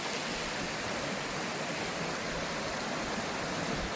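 Water rushes steadily and loudly, a constant cascading roar of Little Poe Creek spilling over falls in a rocky hollow at Poe Valley State Park, with no other sounds.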